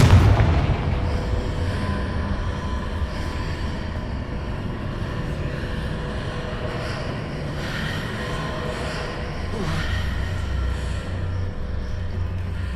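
Spell blasts from Confringo explosions in the PS5 game Hogwarts Legacy, a deep boom at the start followed by a sustained low rumble and swells of softer blasts, with no voices.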